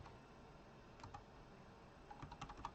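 Someone types a prompt on a computer keyboard: faint, close clicks in brief irregular clusters over a low hiss, growing busier toward the end.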